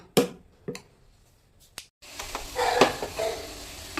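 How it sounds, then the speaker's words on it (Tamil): Malt pancake batter going into a hot pan: a few sharp clinks and taps of utensil on pan, then a soft sizzle and stirring scrapes once the batter hits the heat. "இப்போ வந்துட்டு பேன் கேக் ஊற்றிக்கலாம்."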